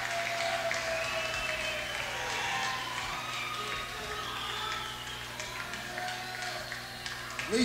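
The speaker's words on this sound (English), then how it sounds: "At least clap hands." Concert audience at a 1978 rock show at the Roxy Theatre in Hollywood clapping along, a faint steady patter of hands under lingering tones and murmured crowd noise, with a short louder bump at the end.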